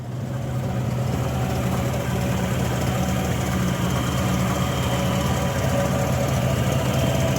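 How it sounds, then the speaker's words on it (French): A Chevrolet V8 with an MSD electronic ignition box idles steadily, a continuous low rumble with even mechanical hum, close and loud, with no voices over it. "Et c'est un moteur qui tourne."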